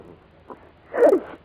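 A single short sneeze bursts out nearby after a brief intake of breath, in a quiet indoor radio drama scene.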